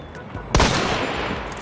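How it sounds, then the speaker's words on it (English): A single sharp gunshot in Hunt: Showdown cracks out loud and close, followed by a short echoing tail over a steady background of game ambience. "I took a shot at him"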